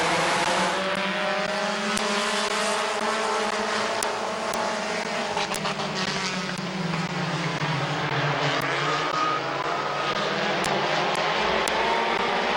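Compact race cars roar steadily around Midvale Speedway during a heat race, a dense, continuous engine drone with rising and falling pitch as cars pass, loud and unbroken throughout.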